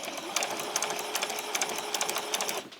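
A domestic sewing machine makes a few back stitches in garment fabric, a close, rapid rhythmic chatter that runs without pause for most of the moment and then stops.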